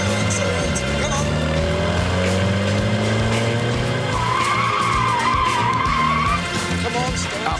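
A small car lapping a track drones steadily, its engine note shifting as it slows, with a brief tire squeal during braking; people talk over it.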